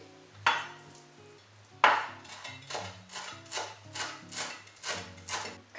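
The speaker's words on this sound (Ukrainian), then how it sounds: "Нарізаю декілька листочків свіжої петрушки." Repeated knife strokes on a cutting board, steady rhythmic chopping of fresh parsley leaves, close and moderately loud, with a few sharper initial cuts.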